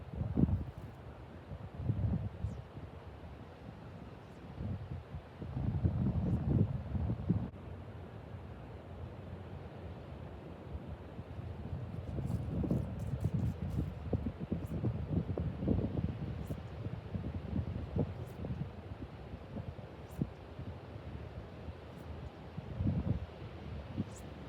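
Strong wind blows during fly casting for striped bass on the East Coast, a steady rumbling roar that swells and gusts, with rustling noise over it and no voices.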